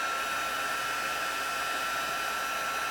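Heat gun blowing a steady, even hiss of hot air as it melts embossing powder on a Christmas card, continuous and close with no talking.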